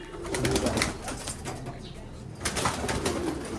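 A racing pigeon coos softly in a loft's hen section, low rolling calls repeating through a faint, steady background hiss with no one speaking.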